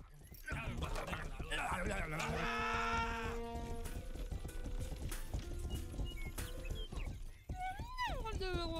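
Horse hooves clip-clop in the video game Grand Theft Horse, a busy rhythmic trot under game music, whinnies and someone talking over it.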